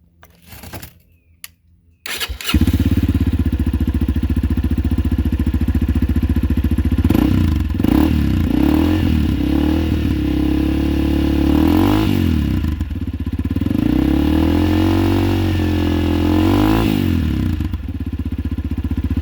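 A Yamaha XT250 motorcycle with a Delkevic 14-inch stubby carbon fiber oval exhaust idles with a loud rumbling exhaust, revving up and down several times in repeated throaty bursts after a few brief clicks.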